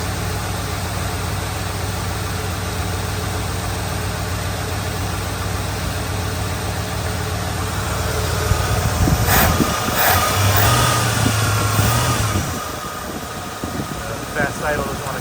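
A 1966 Pontiac Catalina or 1973 Ford LTD engine runs on its own at a high fast idle, a steady close drone that swells and roughens partway through before settling again.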